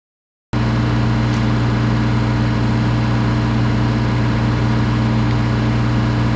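A skid steer engine idles steadily with a low, constant rumble and a few steady tonal hums, holding an even level throughout after a brief silent start.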